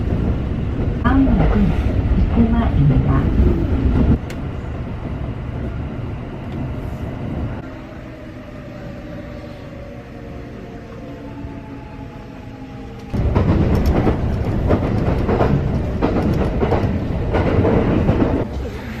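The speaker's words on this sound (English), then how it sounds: "This train is a rapid express bound for Nara." A rapid express train bound for Nara rumbles along with a steady roar and rhythmic rattling, easing quieter midway as a higher whine sweeps upward, then swelling loud again.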